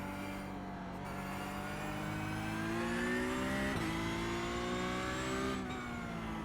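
A Porsche 911 GT3 992 Cup racing car engine in the iRacing video game drones at high revs, its pitch climbing steadily and shifting through gears, continuous and moderately loud with no voices.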